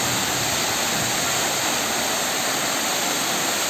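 Ezharakund waterfall in Kerala roars in a steady, broad rush of falling water, loud and continuous with no change in intensity, and no voices over it.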